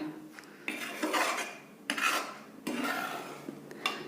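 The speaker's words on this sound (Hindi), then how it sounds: "लगातार चलाते रहेंगे वरना आटा नीचे लग जाएगा।" Flour dry roasting over a low flame in a pan, stirred continuously so bursts of gritty scraping from a spoon on metal come in long strokes with brief pauses between them.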